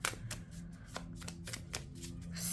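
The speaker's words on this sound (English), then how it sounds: "I'm going to pull out some more cards for you" Tarot cards being shuffled and drawn from a deck, soft papery riffles and slaps repeating in quick bursts, close and quiet with no talking.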